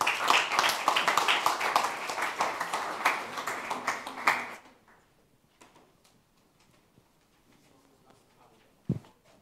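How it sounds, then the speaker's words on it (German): An audience at a youth hackathon's final presentations claps together in a dense burst for about four seconds, then quickly falls quiet, leaving a near-silent room with a few faint knocks. "Einen großen Applaus für euch."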